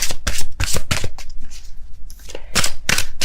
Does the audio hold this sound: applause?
no